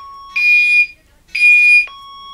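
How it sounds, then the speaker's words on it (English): A fire alarm sounds during a system test, two loud, even electronic horn blasts about a second long with a short gap between, and a steady lower tone before and after. "That was Fire Alarm System Test 2."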